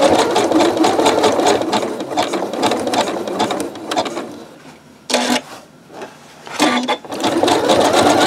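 A sewing machine stitches a rope bowl in long, loud, rapid bursts of mechanical chatter, then pauses, gives two short runs and starts another sustained stretch, all close by with no voices.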